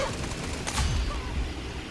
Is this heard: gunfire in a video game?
yes